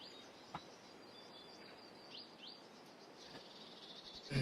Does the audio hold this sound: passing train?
no